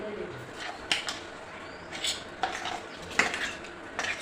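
Grated fresh coconut and sugar are stirred in a pot over a low gas flame, with clinking and scraping of a metal spoon against the pot at an uneven pace, close and moderately loud.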